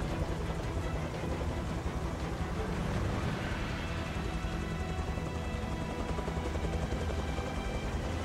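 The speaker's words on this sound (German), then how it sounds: "Ja, natürlich gibt es einen Heli." In the video game Beyond Two Souls, a helicopter produces a steady, dense rotor-and-engine roar that fills the whole stretch at constant loudness.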